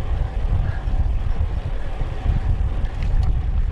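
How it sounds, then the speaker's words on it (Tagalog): Steady, heavy headwind roar buffets the microphone while riding at night on Banawang Bridge in the Philippines, a continuous low rumble with no clear pauses or voices. "Saka medyo malakas din yung hangin kahit pa paano. Merong headwind."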